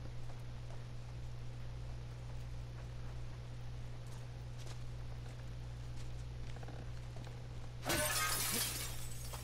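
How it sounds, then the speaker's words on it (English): A character smashing a window in The Last of Us Part 2: after a long stretch of quiet low hum, a single loud, sharp burst of shattering glass near the end, with fragments crashing and tinkling down. "I love when she breaks the glass."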